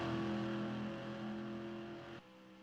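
NASCAR-style stock race cars racing at Atlanta, a steady sustained engine drone with tonal whine that holds, then drops abruptly in level near the end.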